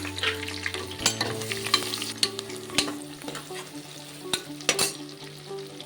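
Onion pieces frying for bagara rice crackle in a close, busy sizzle, punctuated by sharp clacks and scrapes of a ladle against the vessel, with no voices present.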